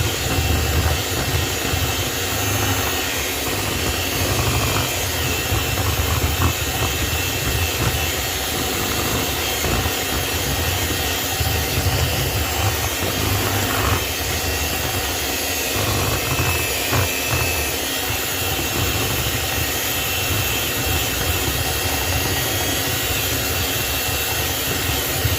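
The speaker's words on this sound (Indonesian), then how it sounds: "setelah udah dimasukin, kita blender lagi, mixer lagi sebentar biar tercampur rata" An electric mixer whirs continuously through cheesecake bar batter with nuts, a loud, steady, close motor drone with no break and no voices.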